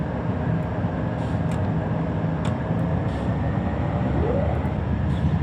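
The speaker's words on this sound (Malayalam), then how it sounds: "ഇനി നമുക്ക് ഈ ത്രോട്ടിൽ കൂട്ടി ട്രെയിൻ ഓടിക്കാം." Freight train locomotive throttling up through Cajon Pass in a train simulator game, a steady loud engine drone with a rising tone toward the end, no talking.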